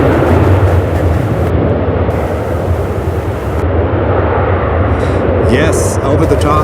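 An airliner arriving from Detroit roars loudly and steadily at Charlotte Douglas International Airport, a broad engine rumble that fills the scene while people talk over it.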